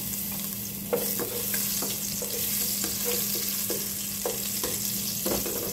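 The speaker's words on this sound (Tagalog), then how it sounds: "Dito rin tayo gigisa na ng sibuyas tsaka bawang." Ginger, onion and garlic sautéing in a pan, a soft continuous sizzle broken by regular scraping strokes of stirring, close and fairly quiet over a steady low hum.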